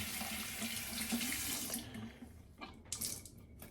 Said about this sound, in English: I'm just gonna wet the brush with warm water